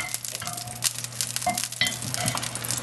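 Spoonfuls of corn cake batter sizzling in bacon fat in a Le Creuset skillet, a steady close hiss and crackle with faint stirring and utensil clinks.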